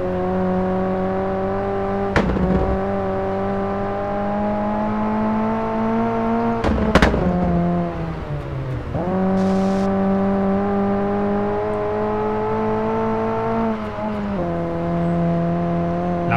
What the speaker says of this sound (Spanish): Incluso me permito llevarle a corte de inyección en tercera velocidad.